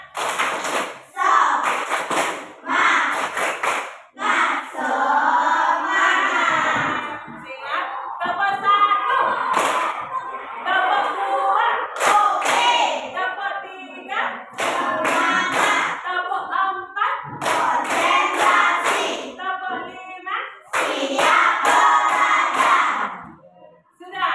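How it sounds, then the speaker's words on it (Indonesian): A class of fifth-grade schoolchildren performs a rhythmic spirit clap, sharp bursts of hand claps in patterned groups alternating with chanting voices, close and loud in a classroom. "Tepuk semangat."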